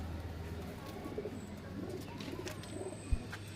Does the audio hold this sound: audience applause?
no